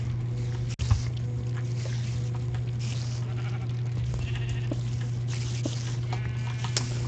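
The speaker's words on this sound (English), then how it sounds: "Sheep, I have no idea what... why you're in there." Sheep bleating in the Minecraft Hexxit modpack, a few short game bleats rising over a steady low hum and soft ambient game noise, with one sharp click near the start.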